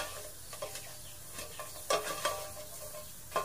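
Chopped onion cooks in a hot, dry pan with no oil, giving a soft sizzle under intermittent stirring and scraping, with a few louder clacks of the utensil.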